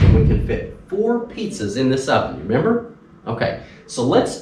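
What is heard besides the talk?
None of the usual background noises is heard.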